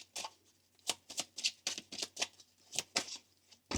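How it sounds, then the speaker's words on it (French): Tarot cards being shuffled and drawn, heard as a quick, close series of crisp riffling snaps and flicks in irregular bursts, quiet and without speech. "Et on va aller prendre une carte du tarot pour chacun."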